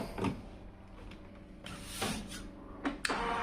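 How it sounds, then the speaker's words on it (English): A Samsung SCX-5835FN laser printer with a noisy laser unit whirs and clicks quietly, with intermittent mechanical creaks and sliding sounds, close and fairly soft. "Now this printer has a noisy laser"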